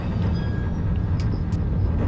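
Train travelling through Switzerland, a steady low rumble and rolling rail noise heard from inside or close by, continuous and fairly loud with faint high squeaks on top.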